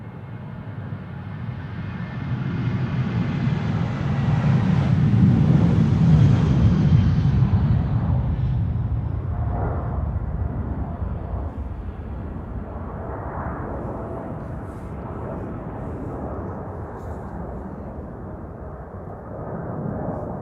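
A jet airliner at Amsterdam Schiphol Airport roars close by, swelling to a loud peak and then easing into a long, steady rumble as it moves away.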